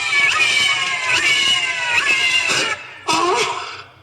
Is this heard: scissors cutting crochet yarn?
no